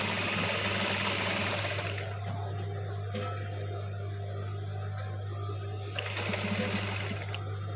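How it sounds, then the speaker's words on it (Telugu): A sewing machine runs steadily, stitching along the side cut of a dress with the fold tucked inside, a continuous close hum with a few brief pauses and shifts in pace. "ఈ ఎజ్జి వారా ఇలా స్టిచ్ చేయండి"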